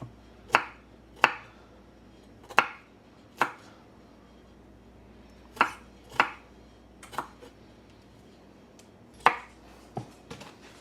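A knife cuts vegetables, including broccoli, into small pieces on a board. About a dozen sharp, close knocks fall at irregular intervals, with a faint room hum in between.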